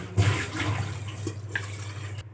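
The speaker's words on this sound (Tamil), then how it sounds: "இப்போ நான் மிக்ஸி ஜாரில் நம்ம வெங்காயம் தக்காளி பேஸ்ட் அரைச்சோம்ல அந்த தண்ணி ஆட் பண்ணிக்கிறேன்" Water from a mixer jar poured into simmering karamani (black-eyed pea) gravy, a short steady liquid pour with a soft splash, close and fairly quiet, ending abruptly.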